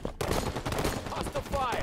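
Rapid bursts of video game gunfire crackle densely throughout, dense and fairly loud, with a few brief electronic tones near the end.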